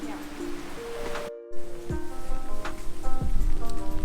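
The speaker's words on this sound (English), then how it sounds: "The rain's picked up quite a bit." Heavy rain falls in Japan as a steady, dense hiss with scattered droplet impacts. Indistinct voices and tonal sounds mix in over the top.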